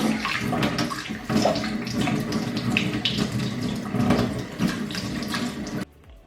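A makeup brush is rinsed under a running tap, making a continuous close splashing rush of water that swells and dips for several seconds, then cuts off abruptly near the end; no one speaks.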